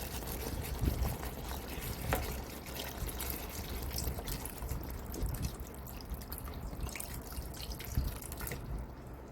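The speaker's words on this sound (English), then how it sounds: "now I'm going to add some more of my broth." Chicken broth is poured into a pot, a faint continuous trickling and splashing of liquid close by, steady throughout without talk.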